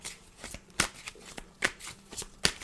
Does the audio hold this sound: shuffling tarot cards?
yes